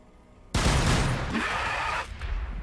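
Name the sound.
gunfire from video game Warhammer 40K: Battlesector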